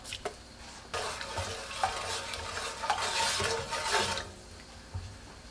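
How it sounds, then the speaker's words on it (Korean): Salt being stirred into lukewarm water, around 40°C, to brine yeolmu (young radish) for green water kimchi: continuous sloshing and scraping swirls, close and moderately loud, building through the middle and easing off near the end. No voices. "빨리 절이려고 소금 넣어서 섞어주세요"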